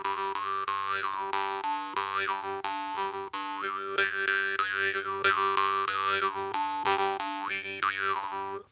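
A jaw harp twangs out a melody, its steady buzzing drone shifting in pitch with rhythmic, rapid plucks throughout.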